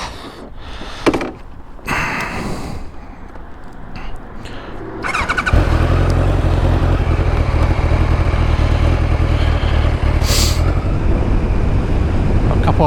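A Kawasaki ZZR1100 motorcycle rides along the road, with wind buffeting and handling noise at first, then a steady loud engine drone and rushing wind that hold to the end.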